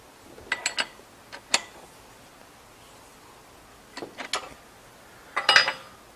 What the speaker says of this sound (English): now I'm going to tighten up the clamp screw